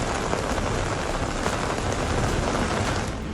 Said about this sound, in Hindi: हिमाचल प्रदेश में बीते 3 दिनों से लगातार बारिश जारी है।